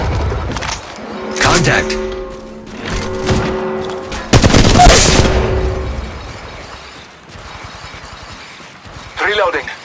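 Automatic gunfire bursts in the Apex Legends Mobile battle royale game, loud rattling volleys with sharp shots and a heavy blast in the middle, mixed with game effects and a short spoken callout.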